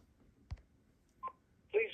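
A cordless phone call blocker gives a few short keypad tones, one brief beep and then a louder two-tone chirp from a pound key press, faint and sparse with quiet gaps between.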